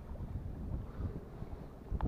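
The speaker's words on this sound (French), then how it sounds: "Donc il y a énormément de vent par contre, c'est un peu gênant." Strong wind buffets the microphone at a seaside fishing pier, the Digue Carnot, a steady low rumble and roar with gusts swelling throughout and a sharper blast near the end.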